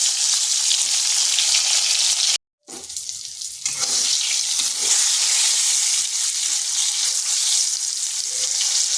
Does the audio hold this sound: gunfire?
no